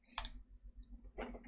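Two sharp mouse clicks land about a second apart, crisp and close in a quiet room with a faint low hum beneath.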